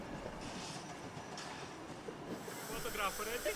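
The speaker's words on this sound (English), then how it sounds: "The train glides by into the loop line and comes to a gentle stop." A Gulbene–Alūksne narrow-gauge railway train rolling slowly into a loop line and easing to a stop, a low rumbling hiss with faint wheel clatter, ending in brief squealing brakes nearby.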